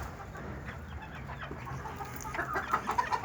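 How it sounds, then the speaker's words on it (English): Loose chickens on a ranch cluck in short, irregular bursts close by, growing busier toward the end, with no talk over them. "Here's some of our chickies running around loose."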